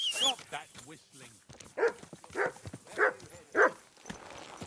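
Mutt, the dog in Kingdom Come: Deliverance 2, barks in a run of about four sharp, evenly spaced barks, preceded by a voice and mixed with game sounds.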